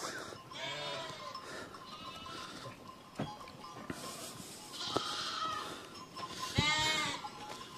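Lambs and sheep bleat in a pen, several wavering cries from nearby animals, some high and thin, others fuller, spread irregularly across the clip with soft thumps and shuffling between them.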